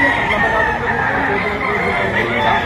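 Chickens cluck and a rooster crows at a busy livestock auction market in Lipa, Batangas, with people chattering beneath the birds.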